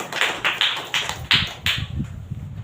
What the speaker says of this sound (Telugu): చప్పట్లు కొట్టి దేవుని నామాన్ని మహిమపరచండి